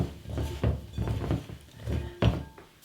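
Vegetables are stirred through flour in a bowl, giving soft irregular thumps and scrapes with a few light clinks, close and fairly quiet, with no talking.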